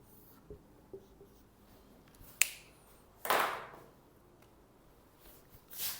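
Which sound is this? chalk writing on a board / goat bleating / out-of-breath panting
chalk writing on a board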